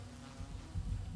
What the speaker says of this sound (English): In the evening, I could hear the sound of insects.